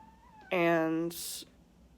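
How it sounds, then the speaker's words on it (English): A single loud, drawn-out cat meow close by, followed by a brief breathy hiss-like burst, over a quiet room. "my cat is meowing"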